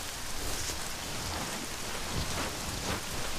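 Steady rain falls at night, a dense close patter of drops on surfaces that continues evenly without pause, with no voices.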